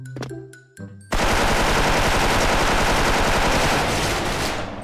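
A DREAD M4A1 rifle in the Special Force game opens up with loud, sustained automatic fire that runs unbroken for several seconds, preceded by a few brief clicks and tones.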